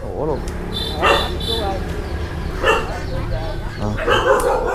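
Dogs at a rural home bark and yip in short bursts nearby while people talk over them the whole time.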